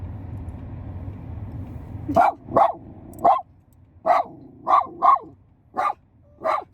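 A dog barks in a string of about eight sharp, loud barks at night near a parked vehicle stopped for the night, following a low steady hum that cuts out.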